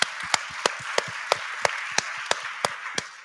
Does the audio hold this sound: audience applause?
yes